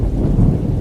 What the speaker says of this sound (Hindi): अचानक उस रात को जोर से आंधी और बारिश होने लगती है।